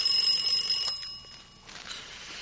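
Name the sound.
alarm clock ringing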